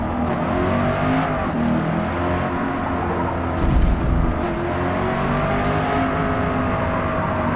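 A race car in Forza Motorsport accelerates out of a turn, its engine droning steadily with layered harmonic whine and a brief louder surge midway, continuous and close throughout.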